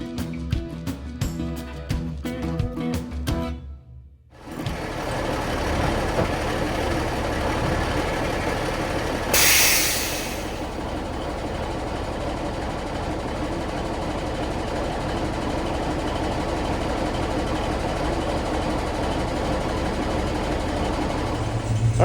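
A Smokey and the Bandit tribute truck's diesel engine runs with a steady low rumble inside the cab; after an abrupt cut a brief hissing burst rises over the idle, which then continues evenly to the end.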